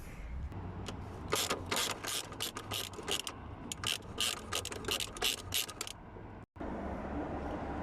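A ratchet works loose a 13mm bolt on a 2015–2021 Vauxhall Astra while a dash cam is being fitted, heard as rapid, close, loud clicking bursts in a steady rhythm that cut off abruptly.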